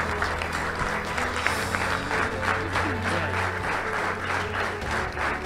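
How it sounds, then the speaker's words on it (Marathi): A crowd gives a standing ovation at an event honouring Padma Shri recipient Dr. Shankarbaba Papalkar, with loud, dense, continuous clapping and a few voices under it for several seconds. "या टाळ्या, उभे राहून टाळ्या वाजवा."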